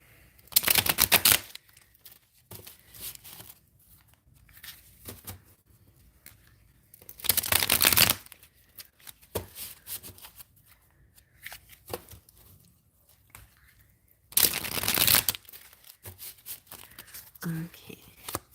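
A deck of cards is shuffled in three loud, crisp riffling bursts several seconds apart. Between the shuffles come softer card handling and quiet background voices.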